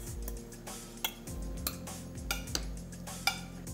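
A metal spoon clinks against serving dishes while beef is served at a home meal, giving a few light, close, scattered clinks and taps over quiet surroundings.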